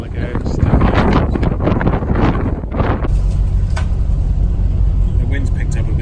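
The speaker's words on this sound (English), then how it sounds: "The wind's picked up a bit." Wind gusting across a lake and buffeting the microphone in a steady, loud roar, with voices talking over it in the first half before the rumbling gusts carry on alone.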